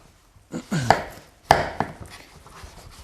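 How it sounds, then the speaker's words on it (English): Several sharp knife chops through pumpkin on a cutting board, irregularly spaced, close and fairly loud, with quiet kitchen sounds between. "I'll start just chopping the vegetables and putting them in randomly"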